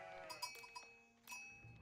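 Sheep in a strategy video game give short bleats, a few separate calls scattered over the moment, mixed with bell-like tones. The sounds are quiet, with no talking.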